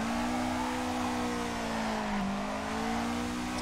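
A Nissan Skyline R34 in the Assetto Corsa racing game revs hard in second gear, its engine a steady loud drone climbing slowly in pitch and holding near the limiter, with no talk over it.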